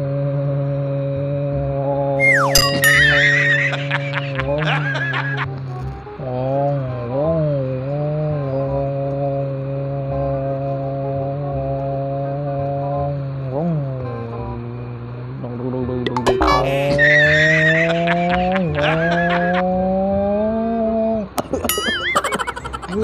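A Honda CBR150R motorcycle engine and exhaust, modified to sound like a ZX-25R, runs close and loud. A steady droning idle is broken by several rising revs that fall back down.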